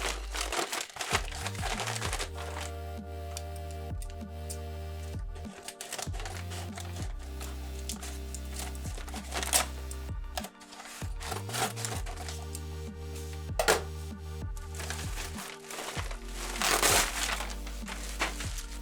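The shipping package for a Columbus Blue Jackets hockey jersey is torn open, with crinkling and crushing of packaging in repeated bursts under a constant low hum, close and moderately loud throughout.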